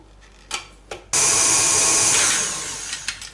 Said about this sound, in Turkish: Hepsini 1-2 dakika çırpıyoruz.